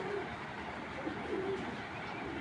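Racing pigeons give soft, low coos under a constant rushing background noise, faint and brief, heard up close in a loft.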